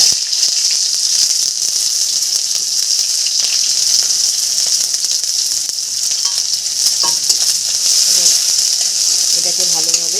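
Chopped onions frying with black cumin in a pan give a loud, continuous close hiss and sizzle that barely varies, with faint stirring and a brief voice murmuring underneath near the end.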